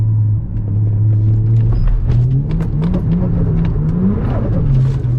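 A Toyota Verossa engine revs on a drive, its pitch climbing and dropping through repeated throttle blips over a steady low rumble, loud and close with no talking.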